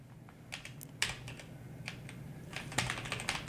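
Fingers typing on a computer keyboard, a quiet, irregular patter of crisp keystroke clicks with a few sharper taps, alone against a faint low hum.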